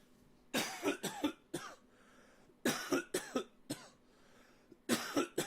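A person coughs in three separate bursts, each a quick cluster of two or three harsh, close coughs with short quiet pauses between.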